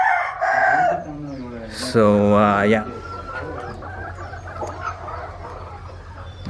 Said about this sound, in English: these are actually the country chickens